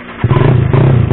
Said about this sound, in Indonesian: Sekarang kita tes ride motornya.